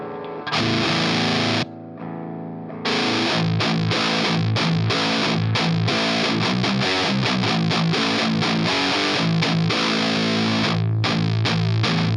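A heavily distorted electric guitar through a vintage amp plays chugging, palm-muted riffs with brief gaps, loud and thick with low-end rumble.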